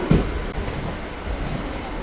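A train standing at Puducherry railway station gives off a steady low rumble and hum with broadband noise throughout, plus a brief louder thump near the start, with no talk.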